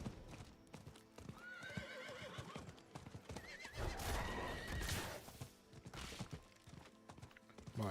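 A horse in the Diablo IV video game clip-clops along at a trot, then lets out sharp neighs and whinnies as it spooks, with game effects and music mixed underneath.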